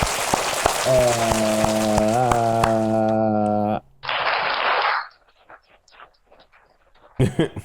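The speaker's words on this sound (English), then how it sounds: "Your claps sound like chicken frying." Hand clapping from an audience: a dense, crackling patter of applause that stops abruptly, returns for another brief burst, then fades, with a sung or held voice over the first part.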